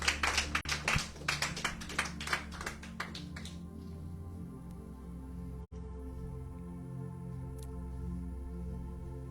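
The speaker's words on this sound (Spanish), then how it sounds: "Démosle un fuerte aplauso al Señor." Applause from a church congregation during a bilingual Spanish-French service, a burst of claps for about three seconds fading into a sustained low musical drone.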